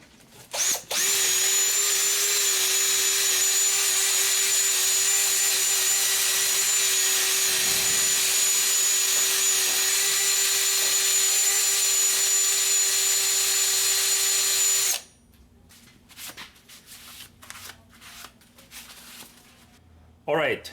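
A power tool spins against the front brake hub flange of a Mercedes Sprinter, a loud, steady high-pitched whirring lasting about fourteen seconds before stopping abruptly, followed by quiet handling sounds and faint background noise.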